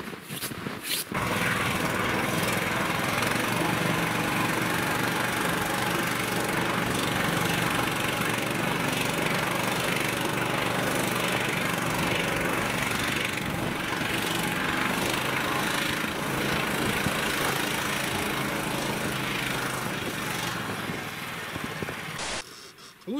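A motorized snow towing machine with a pusher module runs steadily throughout, its small-engine drone loud and constant with faint voices mixed in, ending with a brief drop.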